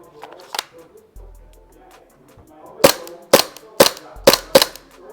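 An ASG CZ SP-01 Shadow airsoft gas blowback pistol fires from a gas magazine: six sharp, loud, close snapping shots at uneven intervals, each a crisp crack with a short mechanical clack, and quiet handling noise between them.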